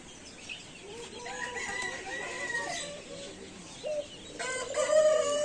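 A rooster crows loudly nearby at Natore Green Valley Park amid a busy mix of clucking hens and other fowl calls, with several overlapping cries toward the end.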